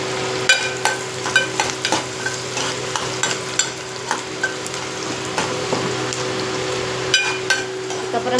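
Onions sautéing with salt in a pan for a Chettinad chicken gravy, giving a continuous loud sizzle and frequent sharp spatula scrapes and taps against the pan.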